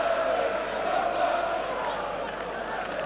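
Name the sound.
football stadium crowd buzzing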